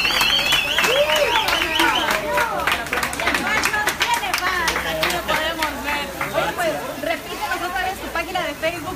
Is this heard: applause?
yes